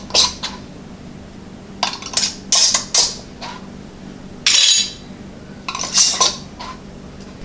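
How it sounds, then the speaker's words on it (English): Metal lids set down and screw bands turned onto glass canning jars of spiced peach rum sauce, a series of close, bright clinks and scrapes in short bursts with quiet gaps, no talking. "And add our rings to fingertip tight."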